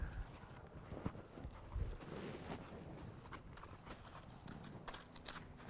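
Horse hooves clip-clop on the ground as the horse travels in a circle around its handler, with uneven close steps and a few heavier thuds, and no talking over them.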